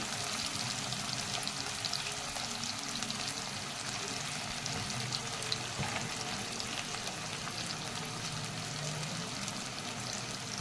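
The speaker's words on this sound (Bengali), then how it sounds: "দিয়েছি সবজিটা এবার আমি ভাজবো" Radish and potato frying in hot oil in a pan for a Bengali fish curry, a loud, steady close-up sizzle and crackle holding evenly throughout, with faint stirring and no talk.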